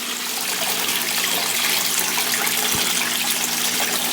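Water from a homemade aquarium filter pours steadily into a goldfish tank, a close, constant splashing rush with a low hum beneath it and a single soft knock.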